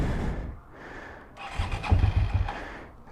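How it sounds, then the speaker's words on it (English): A 1999 Suzuki SV650 motorcycle, unridden for two or three weeks and on choke, cranks over and catches into a rough, rumbling cold-start idle, loud and close. "Alright, let's get to the cold start."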